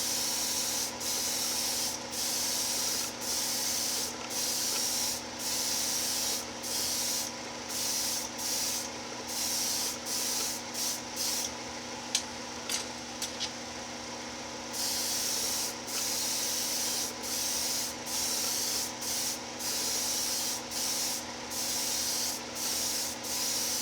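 Repeated bursts of spray paint hiss from a fan-cap aerosol can coating an AMT Dodge Coronet model car body, short rhythmic passes over a steady background hum, with a longer pause midway.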